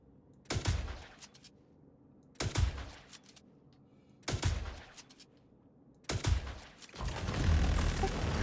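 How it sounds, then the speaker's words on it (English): Sniper rifle fire from a Scalpel and a P6 in the Star Citizen video game comes as four sharp, loud cracks spaced about two seconds apart, each ringing briefly before quiet, the last trailing into rumbling noise. "watch as my friend and I basically just snipe him in the head with a scalpel and a P6"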